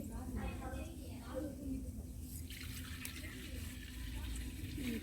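Water poured into a pot of washed rice while making sweet Pongal at a Tamil Pongal festival, a steady splashing pour heard close, with people talking over it.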